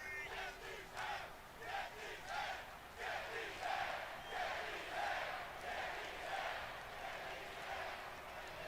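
A big arena crowd in the WWE 2K24 wrestling video game roars and chants in steady swelling waves before a match, a dense wash of shouting voices that holds loud throughout.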